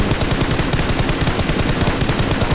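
Loud, close automatic gunfire in the mobile game PUBG Mobile, a fast continuous rattle of shots filling the whole stretch without pause and with no talk over it.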